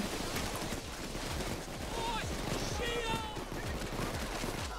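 Gunfire in the video game Payday 2 during a heist shootout, a dense, continuous barrage of rapid shots that holds steady for the whole stretch, with game effects mixed in.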